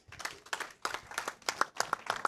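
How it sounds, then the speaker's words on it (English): A conference audience at an annual general meeting claps for a speaker in a short burst of applause. Several hands beat in an uneven rhythm at moderate loudness, with no talking. "please give him another round of applause"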